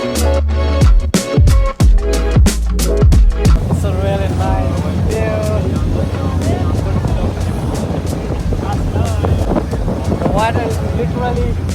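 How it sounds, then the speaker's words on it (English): A Sydney ferry on the run from Circular Quay to Manly powers through the water, with engine drone, rushing spray and wind buffeting under excited voices, after a few sharp bumps at the start. "Look at the power of the engine of this ferry."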